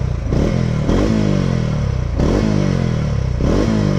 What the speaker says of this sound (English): And what about the exhaust note?